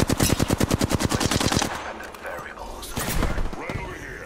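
Rapid automatic gunfire in a battle royale video game, a fast loud burst of evenly spaced shots lasting over a second, then scattered distant shots and game noise under faint talk.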